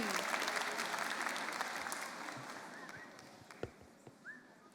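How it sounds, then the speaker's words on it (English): Applause at a student debate showcase for the negative team's second speaker, with many hands clapping at first and then thinning and fading out, leaving a few scattered claps and soft background noise at the end. "Scholars, let's give a huge round of applause for the second speaker of the negative team."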